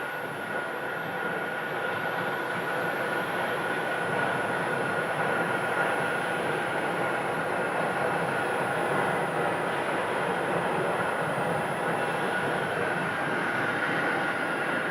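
Steady broad roar of a jet airplane at Phoenix airport, heard from a distance and holding evenly for the whole stretch with a faint high whine above it.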